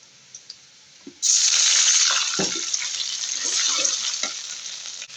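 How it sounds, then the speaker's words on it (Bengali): Water goes into fried spice paste in a hot pan for a rohu fish and potato dish. After a second of quiet it bursts into a loud, sudden hiss that settles into a sustained sizzle with small stirring knocks. "আমার পেস্টটা ভাজা শেষ। এখন আমি অল্প একটু পানি দিয়ে দিব।"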